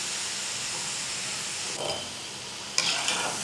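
Chicken pieces frying in hot oil give a steady, loud sizzle and hiss, with two short bursts of crackling as the pieces are moved about, and no talking.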